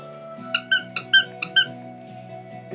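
A squeaky moose puppet dog toy squeaks six times in a quick, uneven series of sharp, bright squeaks, close and loud, over a faint steady hum, with no talking.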